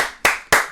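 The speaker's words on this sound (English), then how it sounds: "Round of applause." Two sharp, close hand claps about a quarter second apart, each with a quick decay, from a single person in a small room.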